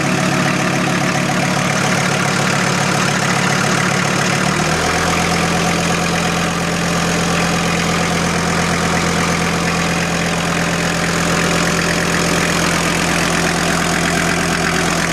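VW T4 van with AAB engine idling: a loud, steady close rumble that steps up to a slightly lower, fuller drone partway through, then holds an even idle.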